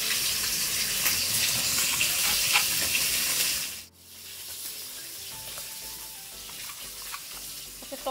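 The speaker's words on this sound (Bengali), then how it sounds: "এইবার তেল গরম হয়ে যাবার পরে তেলের মধ্যে দিয়ে দেওয়া হচ্ছে ফোড়ন, তেজপাতা আর জিরে" Bay leaf and cumin dropped into hot oil for a tempering, a loud hissing sizzle that suddenly cuts back partway through and then settles into quieter crackling and popping.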